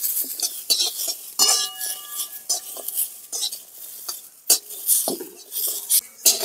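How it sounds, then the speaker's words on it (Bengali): A utensil scrapes and clinks against a pan while tomato, curry leaves, cashews and peanuts are stirred, irregular close metallic strokes over a faint sizzle. "একটু হালকা নেড়ে চেড়ে নেব"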